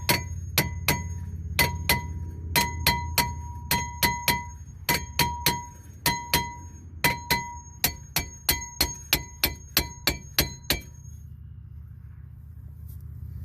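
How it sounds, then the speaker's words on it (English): Repeated metallic taps on a car brake rotor during a PowerStop Z26 brake kit install, about two dozen sharp ringing clinks in uneven bursts, close and clear, stopping near the end. "We'll try to get this rotor off. Tap it a little bit."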